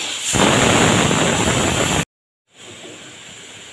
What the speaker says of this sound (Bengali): চারটে সিটি হয়ে গেছে গ্যাসটা অফ করে দিলাম